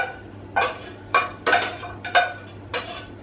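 Spoonfuls of mince scraped and tipped from a pan onto layered lasagne in a baking tray, five or six distinct metallic scrapes and taps at a steady pace, close and fairly quiet.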